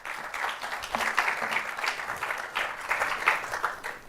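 An audience at a corporate interim results presentation applauds steadily, a moderate wash of many hands clapping heard at some distance throughout.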